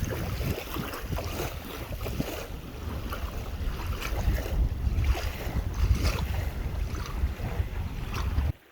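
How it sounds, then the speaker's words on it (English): Wind blows across a lakeside beach along a hiking trail, gusting and buffeting the microphone as a constant rumbling roar that cuts off abruptly at the end. "The wind hitting us."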